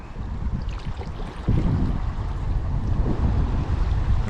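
Strong wind buffets the microphone on a boat floating the Buffalo River, a loud continuous rumble that grows heavier partway through, with water and wave noise underneath.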